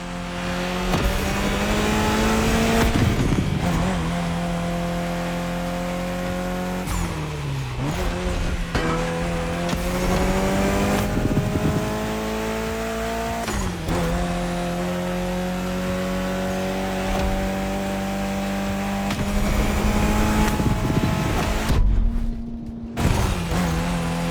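A Mitsubishi Evo X races in the game The Crew Motorfest, its engine revving up through repeated rising gear pulls with brief shifts and occasional tire squeal, loud and continuous for over twenty seconds.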